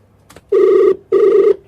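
A telephone rings twice in clear, steady electronic bursts, loud and close, with a short pause between rings and a small click before.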